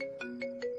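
A phone ringtone plays quietly, a steady electronic tone pulsing in short repeated beats about every fifth of a second.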